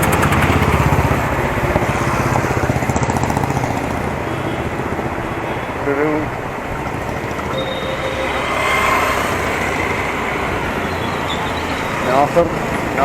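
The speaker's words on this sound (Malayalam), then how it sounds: "ഓട്ടോറിക്ഷ" An auto-rickshaw passes along a narrow inner lane in Ernakulam city, its motor chugging through a steady wash of street traffic noise that swells and fades over several seconds.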